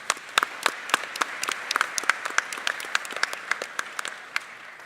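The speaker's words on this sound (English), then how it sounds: "So let's give them a big round of applause." An audience at a business panel discussion on aging claps steadily for about five seconds. The sound is moderately loud and made of many sharp, distinct hand claps.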